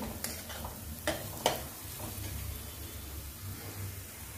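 Red chili thecha mixture being stirred and sautéed in a pan, a faint low sizzle with three or four light clicks of the spoon against the pan early on.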